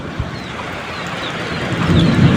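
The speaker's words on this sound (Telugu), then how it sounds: "మెరిసినప్పుడల్లా అసలు చాలా ఉరుముతుంది" Heavy rain pours steadily in a thunderstorm, with a low rumble of thunder swelling toward the end, loud and close, no voices.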